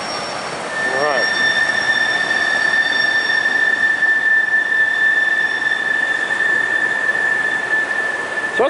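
A long train rolls past on the rails near a river, its wheels giving off a sustained high metallic squeal over a steady, loud rumble that carries through to the end.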